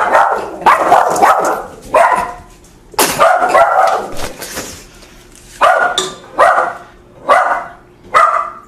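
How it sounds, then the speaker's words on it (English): A dog barks close and loud in a series of bursts, some single and some doubled, separated by brief quiet gaps, with no talking over it. "My dog."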